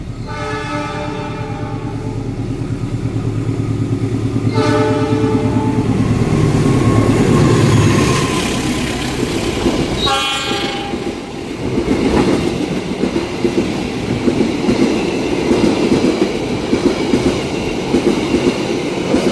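Indonesian passenger train on the Jakarta–Madiun line via Bandung running on rails, with a loud, steady rolling rumble, clattering wheels and long horn blasts near the start and middle, and no talking.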